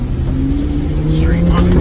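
Ford Bronco Raptor engine accelerating off-road, a steady loud rumble with rising throttle tones throughout, heard from inside the truck with voices present.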